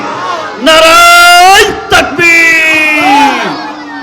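A large congregation at an Islamic sermon shouts "Allahu Akbar" in unison, loud and close, in long sustained chanted swells broken by a brief pause, with a single leading voice mixed in.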